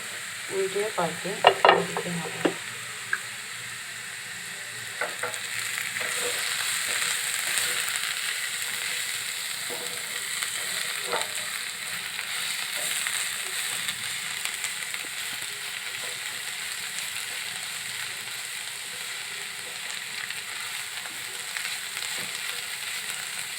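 Snake gourd and egg are stirred and fried in a pan with a continuous close sizzle, and a few sharp scraping stirs come early before the frying hiss settles into a steady, even crackle with occasional small pops.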